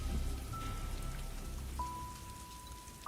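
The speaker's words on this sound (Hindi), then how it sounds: "बारिश अब भी रुक रुक कर हो रही थी।" Rain falls steadily, a continuous soft hiss with no break, and faint thin tones drift through it.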